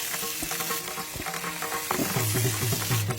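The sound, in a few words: sautéing sliced shallots and green chillies in coconut oil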